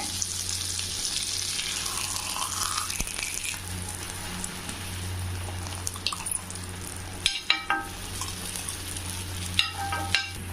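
Chapati frying in butter on a hot dosa griddle gives a steady, close sizzle with low background hum, broken near the end by a few sharp clacks and scrapes as the flatbread is handled.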